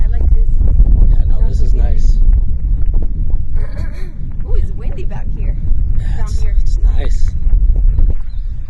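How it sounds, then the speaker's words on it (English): Wind gusts buffet the microphone outdoors on Princess Arch Trail in Kentucky, a loud low rumble running through nearly the whole stretch while people talk over it. "Ooh, it's windy back here."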